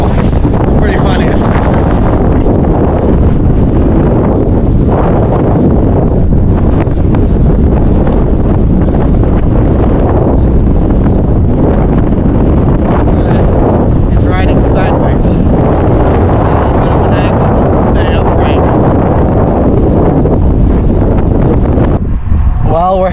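Strong wind gusts buffet a microphone while riding, a loud, continuous roaring rumble that surges and churns without letup, with voices barely audible underneath.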